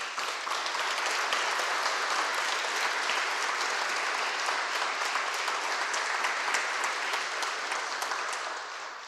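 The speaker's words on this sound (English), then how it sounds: "we'll give you a big round of applause" Steady, sustained applause from a ceremony audience honoring families of fallen heroes in Monterey County, a dense wash of many hands clapping at an even level for about nine seconds before tapering slightly.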